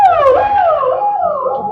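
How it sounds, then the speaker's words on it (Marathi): A dog howls close by in a long, wavering, high-pitched cry that rises and falls, loud and continuous, with no talk over it. "हे बघा मस्तपैकी बघा डॉग लगेच आलेत पळतच."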